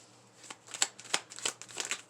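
Tarot cards being shuffled up close, a quiet run of soft riffling slaps and flicks arriving in irregular bursts.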